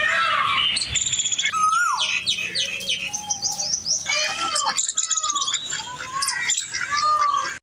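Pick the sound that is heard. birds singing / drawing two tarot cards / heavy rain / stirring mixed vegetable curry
birds singing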